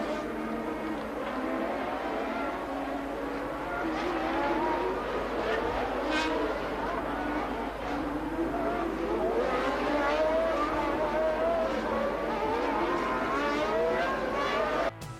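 Formula 1 race cars from 1981 at the Monaco Grand Prix, engines wailing loud and close for the whole stretch, pitch climbing and dropping with each rev change and gear shift.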